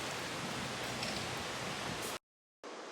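A mountain valley stream flows in steady, broadband rushing water noise with no windscreen on the mic, fairly quiet and continuous before a brief dropout of total silence, then resuming.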